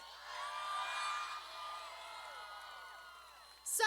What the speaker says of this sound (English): Can we give another round of applause for every student speaker today?